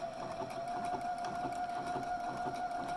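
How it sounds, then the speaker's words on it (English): A sewing machine stitches slowly through a fabric drawstring bag, a steady close whir with a faint rapid needle patter running evenly throughout, no voices. "just be patient as the machine is taking a lot longer on this stitch."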